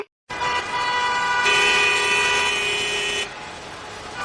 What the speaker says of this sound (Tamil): பின்னாடி ஹார்ன் அடிச்சுட்டே இருக்காங்க பாருங்களேன்.